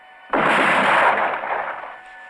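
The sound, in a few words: gunfire from a firing squad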